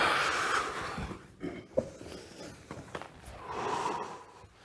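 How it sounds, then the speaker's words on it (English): Soft, controlled breaths, exhales and snorts from someone doing martial arts floor exercises such as hip rolls, close and intermittent, with a sharp nasal puff in the middle. "Always breathing softly."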